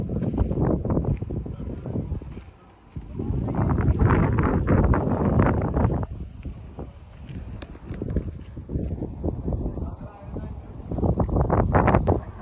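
Strong wind buffets the microphone aboard a boat in loud, gusty rumbling bursts that rise and fall, with a couple of short dips between gusts.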